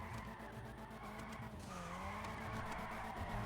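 Drift car skidding with continuous tire squeal over a loud, steady engine roar, close and sustained throughout without talk.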